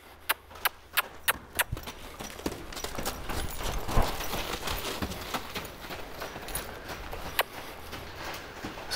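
Five-year-old Mustang mare loping in a training pen, hooves striking in a quick, regular clip-clop that is sharp and close at the start and then continues more softly over a rustling background.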